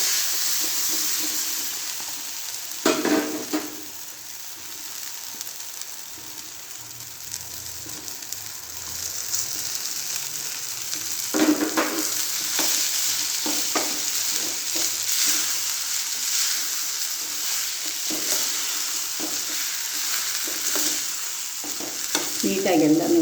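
Cooked rice stirred and tossed with a spoon through curry leaves in a hot pan, a steady soft sizzle broken by repeated scraping strokes, close and with no voices.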